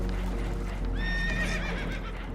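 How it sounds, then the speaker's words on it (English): Spooked horses whinny and neigh on a boat taking on water in the video game Red Dead Redemption 2, one shrill rising and falling whinny with faint clip-clop beneath, fairly quiet. "Horses are spooked, and we're taking on water."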